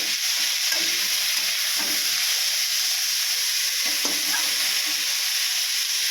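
Beetroot fries in a pan with sugar, salt and turmeric, giving a constant loud sizzle and hiss with faint stirring scrapes underneath, no voices.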